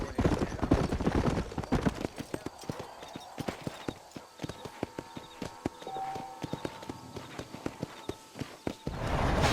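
Horse hooves clip-clop in a steady trotting rhythm while riding out of town in the Red Dead Redemption video game, clear and close, with a low voice talking briefly over the hoofbeats.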